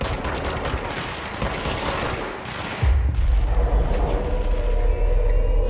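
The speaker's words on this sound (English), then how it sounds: "Suppressing fire!" Rapid automatic gunfire rattles continuously in the video game Control, loud and close, followed by a heavy low rumble like an explosion that carries through to the end.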